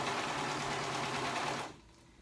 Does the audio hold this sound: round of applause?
no